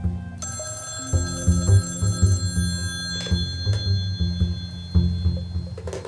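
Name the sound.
telephone ringing sound effect in an audiobook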